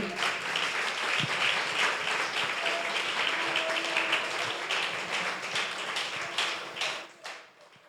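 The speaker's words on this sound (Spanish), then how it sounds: "Dale un aplauso al Señor." A church congregation applauds during a sermon, sustained crowd clapping filling the room at an even level before tapering off near the end, with faint voices underneath.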